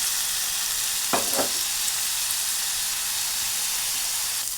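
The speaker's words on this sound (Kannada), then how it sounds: "ನೋಡಿ ಇಲ್ಲಿ ಬಟರ್ ಹಿಂಗೆ ಚಟ್ಪಟ ಅಂತಿರುವಾಗಲೂ ಸ್ವೀಟ್ ಕಾರ್ನ್ ಹಾಕೊಳ್ಳಿ" Sweet corn frying in sizzling butter for paneer fried rice, a steady close hissing sizzle with a couple of brief knocks from the pan early on.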